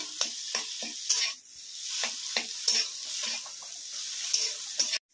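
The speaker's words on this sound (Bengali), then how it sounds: "এবার আমি এর মধ্যে অল্প পরিমাণ গরম মশলা গুঁড়ো দিয়ে দিলাম, দিয়ে আলুর সঙ্গে ভালোভাবে মিশিয়ে নিই" A spatula stirs spiced potato filling in a hot pan, with repeated scraping strokes in an uneven rhythm over a continuous soft sizzle, close by, ending abruptly.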